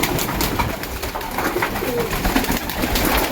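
Racing pigeons coo softly and repeatedly while pecking at crushed raw peanuts, with a close, continuous murmur of overlapping calls from the flock.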